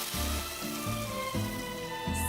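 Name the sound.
mushrooms sizzling in cast iron pan, Genshin Impact video game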